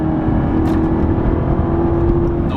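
A 2019 Chevrolet Camaro ZL1 1LE pulling through a track section in third gear, its engine a loud, steady droning hum with a whining tone, heard from inside the car without any talk.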